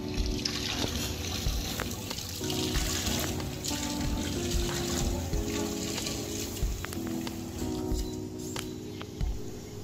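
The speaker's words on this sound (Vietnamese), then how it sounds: "Sau đó, dây soi được xối rửa lại bằng nước sạch dưới vòi nước chảy." Clean tap water runs steadily over an endoscope being rinsed during disinfection, a continuous splashing patter with small irregular drips and clicks, close and fairly quiet.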